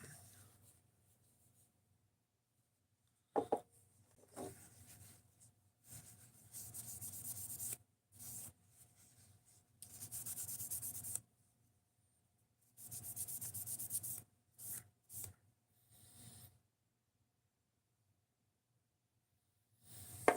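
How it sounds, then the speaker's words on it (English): Tape residue being rubbed off a Benchmade Mini Bedlam knife blade in S90V steel: soft intermittent scrubbing strokes in short bursts with quiet pauses between, close and faint. "So what we're doing right now is we're cleaning off the blade"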